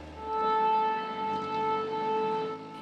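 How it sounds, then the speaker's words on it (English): A steady air raid siren wails continuously in Slovyansk, eastern Ukraine, during Russian attacks, holding its tone with slight swells in loudness, no voices present. "As air raid sirens blare"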